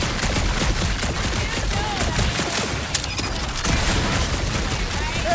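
Dense, continuous gunfire in the Guardians of the Galaxy video game, rapid overlapping blasts and impacts in a dark area with scattered game effects, loud and sustained throughout.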